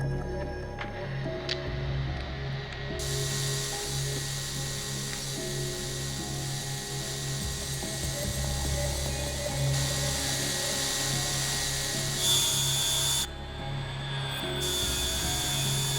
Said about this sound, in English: Once you're midway through, drill in shorter bursts.